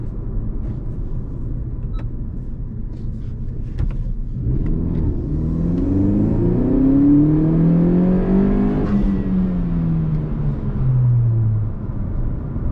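A 10th-gen Honda Civic Si with a K&N Typhoon intake on a stock base map revs up, its small engine note climbing to a loud, whirring peak and then easing back down, close and without talk.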